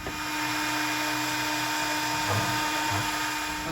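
A CNC milling machine runs steadily, a continuous whining, drill-like machining tone with a constant hum, loud and unbroken throughout, with faint voices in the background.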